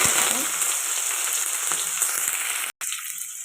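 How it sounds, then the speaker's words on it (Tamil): Onion, garlic, dried chillies and curry leaves fry in hot oil for an okra poriyal, giving a dense, steady close sizzle throughout with a brief cutout near the end and no talking. "வெங்காயம் நல்லா வதங்கிட்டுருக்கு"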